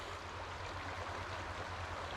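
Water of a freezing creek flowing steadily, a continuous close-up rush and babble with an even, unbroken level and no talking.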